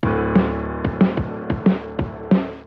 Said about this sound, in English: wouldn't be Linkin Park without a bit of bit crushing on the drums